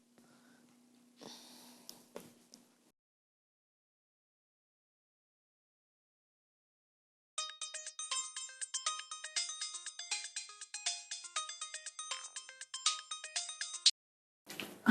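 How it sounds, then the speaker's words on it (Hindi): A phone line rings in a patterned series of bursts during an outgoing call in a Pakistani telefilm, after a short stretch of breathy sound and a silent gap, with nobody talking over it. "नादिया को फ़ोन करती हूँ।"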